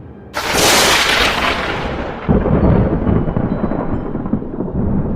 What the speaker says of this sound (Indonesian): Di kejauhan, petir samar terdengar sekali lagi.